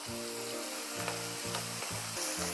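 Marinated, seasoned food sizzles loudly in a hot pan, a continuous close frying crackle with light stirring movements, and soft background music runs beneath it.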